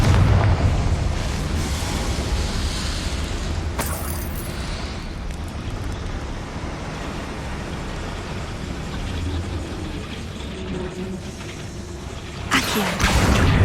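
The Confringo fire-blast spell explodes in Hogwarts Legacy, opening with a loud burst followed by a long rumbling, crackling roar, with further sharp blasts near the start and end.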